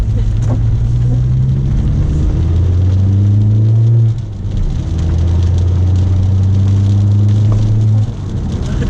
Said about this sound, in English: I'm just gonna warm the car up first.